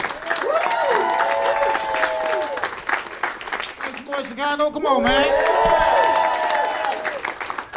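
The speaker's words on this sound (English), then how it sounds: "Start clapping right now for your next comedian." Comedy club crowd at a SXSW 2021 stand-up show applauding and cheering loudly for the next comedian, a dense sustained roar with a voice talking and shouting over it throughout.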